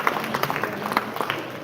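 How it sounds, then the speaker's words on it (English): Light audience applause at a large trade event, scattered claps at moderate distance with a hum of the hall beneath, fairly faint and brief. "that deserves a huge round of applause."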